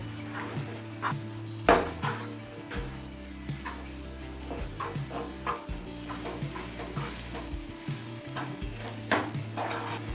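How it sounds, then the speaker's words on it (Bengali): Prawn-head and taro leaf mash is stirred in a pan over a medium flame as it dries out. A spoon scrapes repeatedly and unevenly against the pan over a steady low sizzle, close and clear, with no talking. "এবার গ্যাসের ফ্লেমটা মিডিয়ামে করে দিয়ে এটা শুকনো শুকনো হয়ে আসা পর্যন্ত নাড়তে থাকবো"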